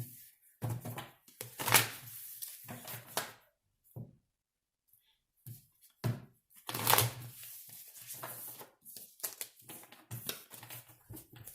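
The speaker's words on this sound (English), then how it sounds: "let's get 4 shuffles for you and get out the tarot cards" Tarot cards being shuffled in several quick bursts, a crisp riffling flutter with short pauses and soft taps between, close and moderately loud.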